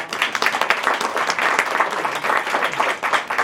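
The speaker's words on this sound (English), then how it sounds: "Another round of applause" Steady applause from a crowd at a book festival story slam, dense clapping that holds at a constant level throughout with slight swells.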